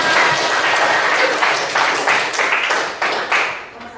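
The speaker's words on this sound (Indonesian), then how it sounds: "Oke, tepuk tangan." A class of students applauds at the end of a floor gymnastics lesson, a steady dense patter of many hands lasting a few seconds before thinning out.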